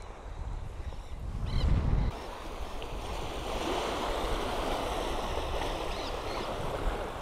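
A river flows steadily at Parque de los Niños, a fishing spot, with a continuous rushing wash of water and some wind buffeting the microphone.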